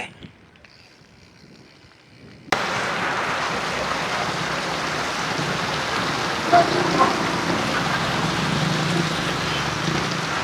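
Steady typhoon rain pours down in a dense, continuous hiss after a sudden start, heavy and close with no voices, on a bike route in Maragondon, Cavite.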